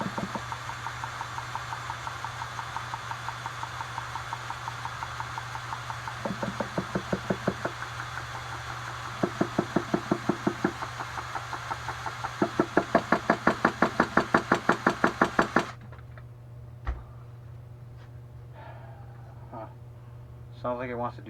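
An HPI Savage RC truck engine turns over with a steady low knocking hum, rising in brief repeated bursts of rapid rattling before cutting out, leaving a faint quiet tail with small clicks.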